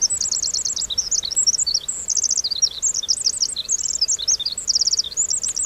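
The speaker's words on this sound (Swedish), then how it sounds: "Är det fåglarna?" Birds chirp in The Forest video game, a rapid run of high, bright twittering trills repeated in quick bursts, fairly loud and close, with no talk.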